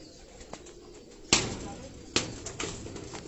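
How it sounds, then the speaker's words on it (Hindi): Rampuri crossbreed pigeons in a cage give soft, low coos near the listener, with a few sharp bursts of wing flapping or cage knocks and a voice talking faintly. "रामपुरी बांकों का क्रॉस कबूतर दोस्तों"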